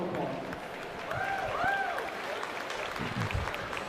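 A crowd at a youth swine show applauds the young exhibitors, moderate clapping spread through an arena, with a voice and scattered noises of the ring mixed in.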